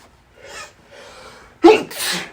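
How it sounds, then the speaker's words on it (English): A person takes a couple of quick breaths, then lets out a sharp, loud sneeze followed by a second burst. "I gotta sneeze."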